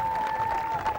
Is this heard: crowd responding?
yes